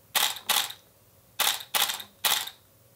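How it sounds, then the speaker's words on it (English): Two linked camera shutters, rigged so that firing one trips the other, release in five sharp, close mechanical snaps: a quick pair, a pause, then three more in an uneven rhythm. "when I fire this shutter, this one will fire too"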